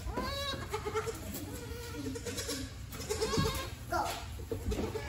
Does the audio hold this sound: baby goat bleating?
yes